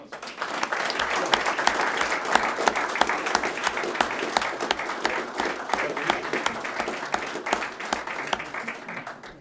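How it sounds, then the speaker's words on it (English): A room full of people applauding at a city council meeting, sustained clapping with sharp individual claps poking through a continuous patter, holding steady throughout with faint voices underneath. "Can we get one more round of applause?"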